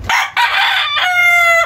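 A fighting cock crows loudly and close by, a single harsh, rising call that breaks and then stretches into a long held final note.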